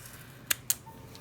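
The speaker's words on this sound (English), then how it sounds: "the excess we'll just use our scissors again to trim off" Two quick, crisp snips of regular scissors trimming foam tape, close and distinct, against a quiet background.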